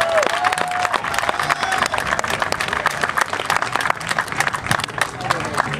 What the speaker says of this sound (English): everyone should give the Johnson family a round of applause